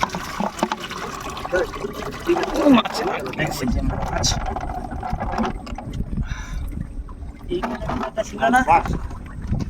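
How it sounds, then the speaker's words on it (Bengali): A boat moves along a river in the Sundarbans, its water sloshing and trickling steadily beneath a person talking throughout. "আমার নৌকা চলে যাচ্ছে নৌকা চলে যাচ্ছে"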